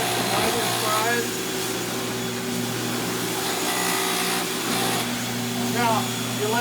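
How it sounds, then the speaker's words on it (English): A cleaning machine runs its spinning brush and vacuum together, giving a steady, loud motor drone and whine that stays constant throughout, with faint squeaks and scraping marks layered on top. "all I'm doing is running the brush and the vacuum"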